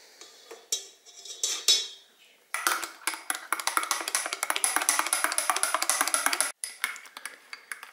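A spoon stirs dissolved gelatin in a bowl, giving a steady run of quick clinking and scraping against the sides, close up, after a few scattered taps at the start.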